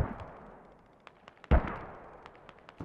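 A mortar round fires in Squad, a single loud thump about midway through, followed by a fading tail, with fainter distant gunfire cracks scattered before and after over quiet background.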